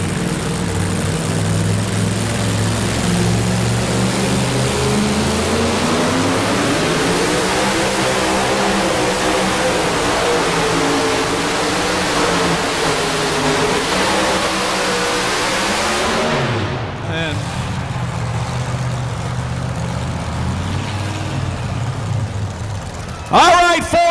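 Supercharged 2,000-horsepower two-wheel-drive pulling trucks roar at a truck pulling event, a loud, sustained engine drone rising and falling in pitch before cutting back, with an announcer talking over it.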